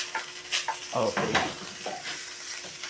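Pork belly frying in a pan for sinigang and being stirred, with short scraping stirs over a faint, steady sizzle, close up and with no talking.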